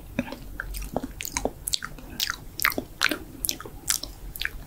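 Close, crisp biting and chewing in an eating role play, heard as a steady run of wet crunches and smacks spread evenly across the stretch with no talking.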